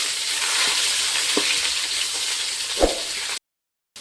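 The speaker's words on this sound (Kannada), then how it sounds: "ಇವಾಗ ಇದನ್ನು ನಾನು ಸ್ವಲ್ಪ ಫ್ರೈ ಮಾಡೋಣ" Crushed garlic frying in hot oil in a pan for a vegetable and bean pulao, a steady close sizzle with a few soft stirring knocks, then a brief silence near the end.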